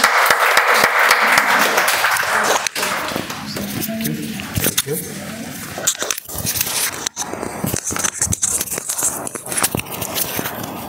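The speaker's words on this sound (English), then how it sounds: "let's give a round of applause for this person" Applause at a Toastmasters club meeting, a burst of many hands clapping close and loud at the start, then thinning into scattered claps and sharp clicks with rustling and some voices underneath.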